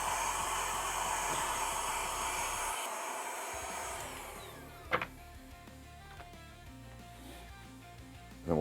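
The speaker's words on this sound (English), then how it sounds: "So let's just vacuum out anything that's left over." A vacuum cleaner sucks debris out of a Game Boy Advance shell during a repair, a steady whooshing hum that cuts off partway through and leaves a few faint clicks and taps.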